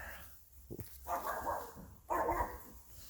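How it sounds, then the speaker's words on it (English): Dogs barking indoors, a few yips followed by two bursts of barking, somewhat distant and fairly quiet, with no talk over them. "Don't mind the dogs"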